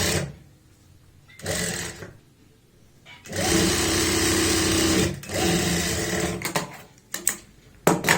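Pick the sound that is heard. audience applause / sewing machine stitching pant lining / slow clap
sewing machine stitching pant lining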